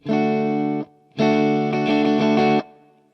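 A heavily processed guitar strums one chord, a short gap follows, then a busier run of rapid strums before ringing off.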